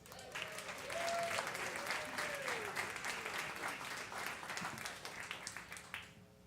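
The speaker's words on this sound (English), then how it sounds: "Start clapping now for Ryan Cox." Comedy club audience applauding and clapping steadily for several seconds, with a few scattered whoops and voices mixed in, fading slightly at the end.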